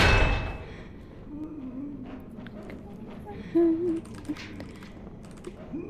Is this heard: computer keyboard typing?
yes